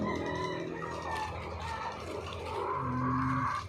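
A flock of large Rhode Island chickens gathers to eat water spinach, with clucking and fowl calls close by and a rooster-like crow near the end, all without speech.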